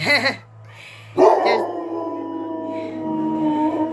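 Dogs barking indoors, a couple of sharp close barks followed by a long whining, howling tone, with a person speaking faintly.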